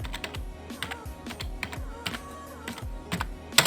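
Someone types a command on a computer keyboard in a quick run of close, crisp key clicks with small irregular pauses, ending in a sharper keystroke.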